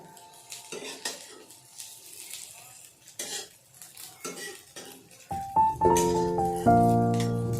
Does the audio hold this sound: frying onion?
yes